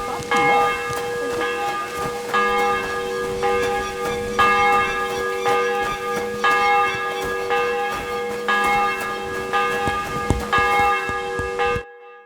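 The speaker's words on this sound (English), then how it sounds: "The bell's ringing for Hans the 5th time." A church bell tolls repeatedly in Kingdom Come: Deliverance 2, struck about every second with long ringing overtones that overlap and sustain, loud and resonant, before cutting off abruptly near the end.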